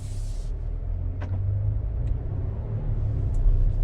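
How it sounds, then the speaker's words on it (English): Cabin of a 2021 Volvo XC90 T6 AWD SUV under way, with a steady low road and engine rumble, faint hiss, and a few small ticks and clicks inside the car. "we'll go for a ride in this Volvo"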